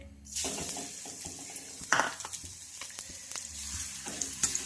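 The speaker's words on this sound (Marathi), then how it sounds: "आता यामध्ये आपल्याला हा लसूण हलकासा फ्राय करून घ्यायचा आहे" Garlic frying in a few spoons of oil in a kadhai makes a steady close sizzle, broken by clinks and scrapes of a spoon stirring against the pan, with no speech.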